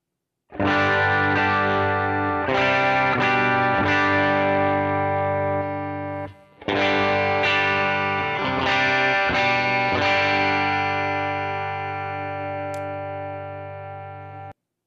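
Distorted electric guitar chords ring out through an amp, gritty and sustained, with a brief pause midway before more strummed chords decay away.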